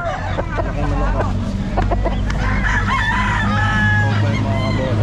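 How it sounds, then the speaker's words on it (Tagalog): Roosters crow and chickens cluck at a busy pet market selling fowl, several drawn-out crows overlapping close by with steady clucking, over a background murmur of people talking. "Laki manok ka."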